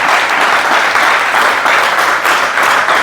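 A church congregation bursts into steady, dense applause, many hands clapping together loudly and evenly for the whole stretch with no talking over it.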